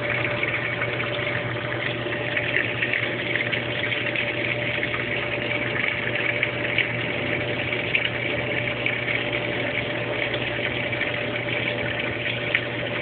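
Water rushes steadily into the tub of a Brastemp Baby Mondial washing machine at low water pressure under a constant motor hum, an unbroken, even flow with no pauses.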